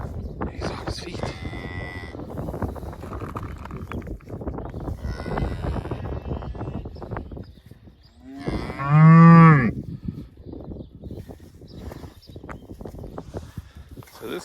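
Cow with a newborn red Angus-cross calf on a farm, a loud close moo rising in the middle, with rustling and people talking before and after.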